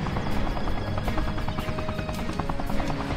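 Helicopter rotor noise from the PS1 arcade game Black Dawn, a steady buzzing chop with rapid periodic pulses that runs continuously at even loudness, with no voices over it.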